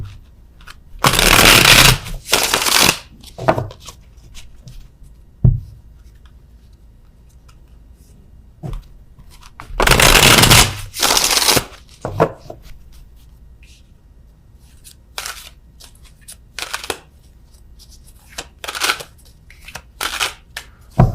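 Tarot cards are shuffled in several brisk riffling bursts separated by quiet pauses and small handling taps, close-up with no talking.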